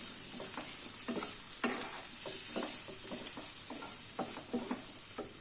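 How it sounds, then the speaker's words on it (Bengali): Spice masala with tomato and green chilli fried in a pan while being stirred, a soft constant sizzle under repeated scraping strokes of the spatula at a fairly even pace; no voices. "এবার ভালো করে একটু মশলাটা কষে নিই"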